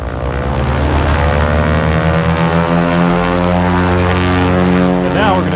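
Goodyear blimp engines throttling up for takeoff, a loud steady propeller drone with layered harmonic tones that holds close throughout and shifts slightly in pitch near the end.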